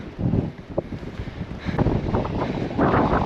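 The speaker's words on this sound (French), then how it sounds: "Bon, il y a du vent." Strong wind buffets the microphone on an exposed mountain ridge in Madeira, loud gusty roaring and rumbling that rises and falls without pause, with no voices.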